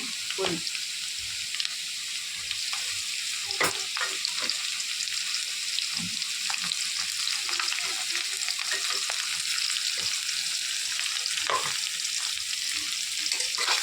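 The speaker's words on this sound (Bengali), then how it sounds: "আলুগুলোকে ভেজে নিয়েছি, এখন এর মধ্যে পেঁয়াজ দিয়ে দেবো।" Fried potatoes and onions sizzling in hot oil in a pan, a steady bright crackle with occasional soft clicks of stirring, close and even in level from start to finish.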